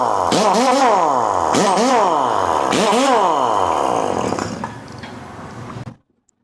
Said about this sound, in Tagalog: Kaya ito yon, 1-inch Wheeler